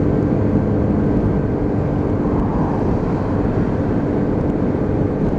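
A Lexmoto Venom 125cc motorcycle engine hums steadily while riding, a constant low drone with heavy wind rush and no clear rise or fall in throttle.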